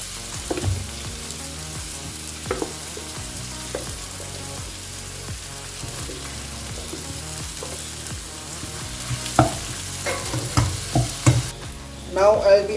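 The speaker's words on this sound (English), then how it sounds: "Now I'm going to add the potatoes that I have mashed." Mashed potatoes sizzle in a hot pan for a paneer samosa filling, with steady frying hiss and repeated scraping stirs of a utensil, growing busier near the end.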